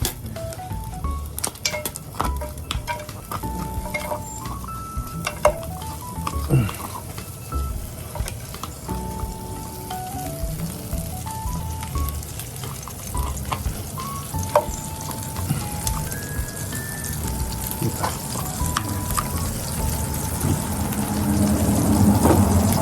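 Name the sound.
sisig frying and sizzling in a pan with margarine and garlic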